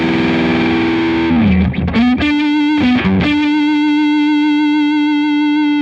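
Overdriven electric guitar through a Boss BD-2w Blues Driver pedal set to high gain, heavily compressed: a few picked notes, then a long sustained note ringing out loud and alone.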